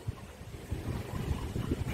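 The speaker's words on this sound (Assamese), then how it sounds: "ইমান বতাহ দি আছে" Strong wind gusting steadily through a drizzly rain, a continuous low rumbling roar that swells and buffets the microphone, with no voices.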